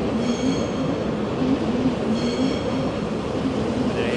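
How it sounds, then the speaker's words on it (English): Two Stadler Flirt electric trains rumble steadily past close by at Frankfurt main station, with a continuous low roar, faint wheel squeal and rhythmic rail clatter, no voices. "here's the Stadler Flirts, the same company as before, the Hessenbahn"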